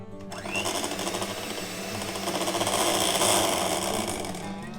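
An electric mixer whips pancake batter, with a steady loud motorized whir and rapid rattling that builds slightly over the few seconds, alone without talk.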